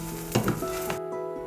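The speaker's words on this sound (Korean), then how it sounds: "한쪽면이 노릇하게 구워졌으면 뒤집어서 다른 쪽도 노릇하게 구워주세요" Kimchi pancake, a Korean kimchijeon, sizzling in a frying pan, with a brief louder burst of spatter and scraping early on that settles into a steady close crackle.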